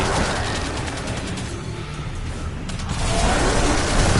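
A submachine gun with an electric effect fires rapid, dense, rattling bursts in the shooter game Destiny 2. The racket is loud and continuous, with a mechanical clatter that dips briefly in the middle and then swells again.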